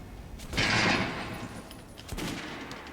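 A shell-loaded video game weapon fires with a loud blast, followed by a fading tail and then a second, quieter shot, with no talking.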